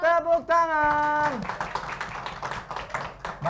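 Studio audience applause at an Indonesian stand-up comedy taping in Ciledug, a dense patter of clapping that rises after a short musical sting and carries on steadily to the end.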